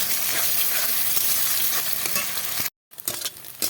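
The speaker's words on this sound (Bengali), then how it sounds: "কড়াইতে সাদা তেল দিয়ে দিয়েছি এবার এখানে আমি পাঁচটা ডিম নিয়েছি ডিমটাকে ভেজে নেব" Five eggs with a little salt scrambled and fried in white oil in a wok, giving a steady, close sizzle with stirring scrapes, broken by a brief silent gap before the frying resumes.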